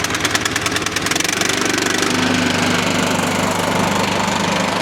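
A small engine on a Chinese rock crusher sputters to life with rapid, uneven pops and then settles into a steady, loud, close running chug.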